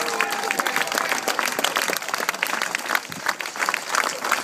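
Applause from an audience at the end of a log-chopping contest. Sustained, dense clapping throughout, fairly close and loud, with no talk.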